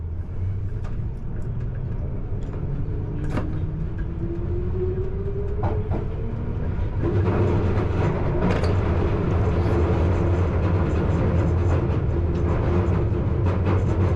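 A London Underground Piccadilly Line train runs through a tunnel near Kings Cross, a loud continuous rumble with a rising motor whine and a few rattles and squeals, building louder partway through.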